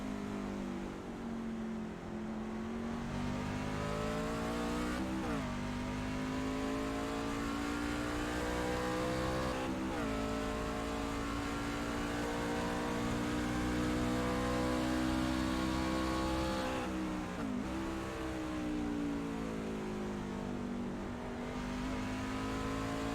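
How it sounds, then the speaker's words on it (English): Race car circling a track at a broadcast event, engine tone rising and falling continuously with tyre noise blended underneath, steady and fairly loud with no voices. "And you can sure hear the tires."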